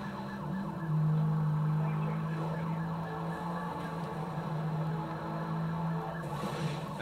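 Police car siren in a video game car chase wails steadily over a droning engine, fairly loud and continuous with no talk.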